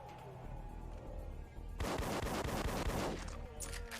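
Rapid bursts of gunfire sound in the video game Duke Nukem: Manhattan Project: a dense, loud volley of shots after a quieter stretch of game sound, with no talking.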